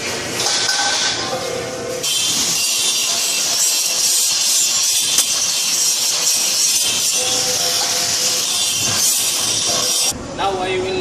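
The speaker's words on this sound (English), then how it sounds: "I will grind this pipe so when it's clean, I will use this grinder, this 4-inch" A 4-inch angle grinder grinding a steel pipe in a welding and fabrication shop, a loud continuous high-pitched grinding whine that holds steady for about eight seconds before stopping, with a voice audible beneath it.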